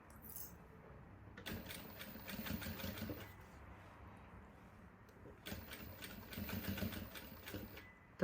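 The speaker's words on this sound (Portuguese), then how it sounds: "Eu já vou passando uma costurinha aqui em volta do zíper." A sewing machine stitches around a zipper on a zippered wallet, running in two steady bursts with a pause between, at moderate loudness with no talk.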